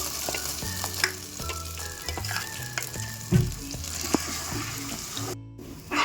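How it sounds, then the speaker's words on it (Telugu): Poppy seed paste frying in ghee in a pan for poppy seed payasam, a steady soft sizzle with repeated stirring scrapes of a spoon throughout, close and alone. "ఇలా అడుగు పట్టకుండా మధ్య మధ్యలో కలుపుతూ దీన్ని ఫ్రై చేసుకోవాలి"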